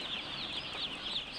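Baby chicks peep in a steady, high-pitched chorus of overlapping cheeps, close by and fairly loud, with soft clucking underneath and no talking.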